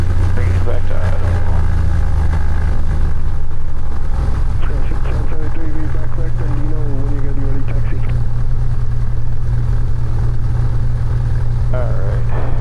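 A light aircraft engine throttled back to idle on a night flight, a loud steady low drone that settles lower partway through, with a voice talking over it.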